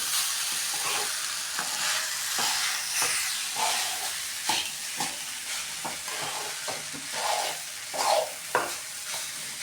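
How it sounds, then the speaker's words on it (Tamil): Leftover rice being stirred into puli sadam (tamarind rice) in a pan, with a steady sizzling hiss broken by scraping, clicking strokes of the spoon at an uneven rhythm. "இப்போ என்ன பண்ணணும்னா நல்லா கிளறி விட்டுக்கோங்க."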